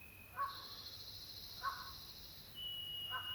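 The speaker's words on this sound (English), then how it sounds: "I'm hearing birds, not just the little chickadees off there" Wild birds call around a campsite: two or three short harsh caws come from a distance at irregular intervals, while a thin steady insect-like tone runs faintly beneath them.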